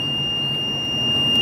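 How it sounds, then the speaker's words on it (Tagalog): A building elevator's alarm sounds loud and unbroken, a piercing steady electronic tone sustained over a low mechanical hum, with no talking. "Ay, akala ko sira yung elevator. Ang ingay. Nag-alarm yung niya, guys."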